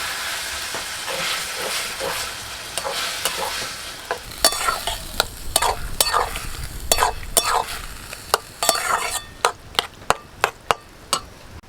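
Bottle gourd tipped into hot oil with fried ginger in a pan, a loud sizzling hiss followed by a run of sharp spatula scrapes and stirring knocks that grow more rhythmic toward the end.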